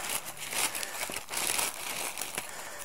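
A clear plastic haul bag being cut open, its thin film crinkling and crackling up close in a steady, continuous rustle with no talking over it.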